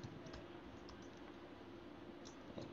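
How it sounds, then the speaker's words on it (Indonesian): Typing on a computer keyboard while a document is being written, with light scattered key clicks over a quiet steady background. "sekarang tinggal kita akan mengetik"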